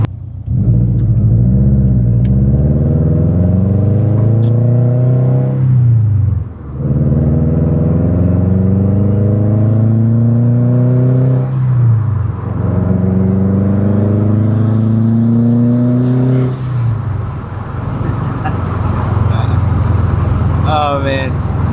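A 500-horsepower Subaru WRX JDM car revs loudly and close, its engine pitch climbing through repeated surges with brief drops between gear changes, rumbling steadily for the whole stretch.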